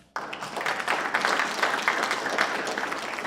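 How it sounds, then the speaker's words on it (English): Audience applause for the panelists at the close of the ROAD 2018 panel discussion, a sudden dense wash of many hands clapping that holds steady and strong throughout. "I'd like to give them a round of applause."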